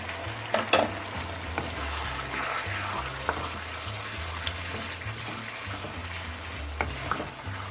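Yogurt hitting sizzling chicken karahi in desi ghee inside a pot, a bubbling frying hiss with intermittent clanks of a spoon stirring against the metal.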